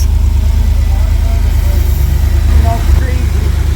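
A Cadillac engine idles steadily, a loud, even low rumble with regular pulses, while people talk over it.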